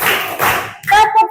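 Classroom clapping game: a couple of quick broadband hand claps in rhythm from a group of students, followed by a short vocal sound, fairly close and loud.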